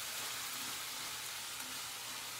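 Sliced Vidalia onions sizzling steadily in a hot stir-fry pan for cashew chicken, a soft, even hiss throughout with no talking.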